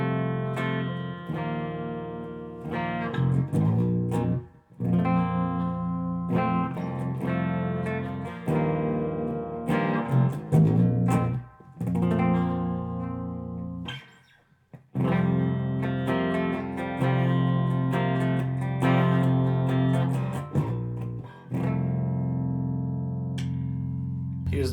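Clean 30-inch baritone electric guitar with a deep, low register plays sustained chords and picked notes, ringing out with brief pauses between phrases.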